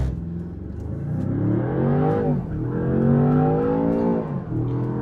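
A Land Rover Defender Octa with engine, steering and transmission in dynamic mode launches hard, its engine climbing in loud rising pulls through quick gear shifts, heard from inside the cabin without talk.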